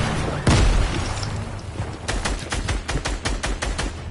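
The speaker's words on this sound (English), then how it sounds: "Everybody's spamming their grenades." Grenade explosions and gunfire in a PS4 shooter video game: a loud boom early on, then a rapid run of sharp, close gunshots in quick succession, all loud and dense.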